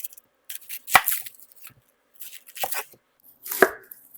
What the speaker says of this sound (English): I'm just gonna cut the ends off,